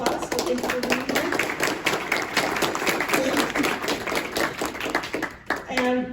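An audience at a political climate roundtable claps for the panelists, moderately loud, steady applause with distinct individual claps that fades at the end as voices begin.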